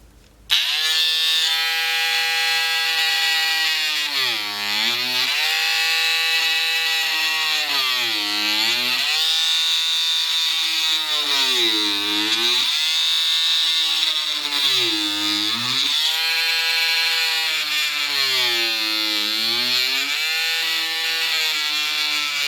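An Amtech power carving tool cuts the teeth and mouth into a pumpkin. Its loud, buzzing motor whine sags and recovers in pitch again and again as the blade bites into the flesh, running continuously throughout.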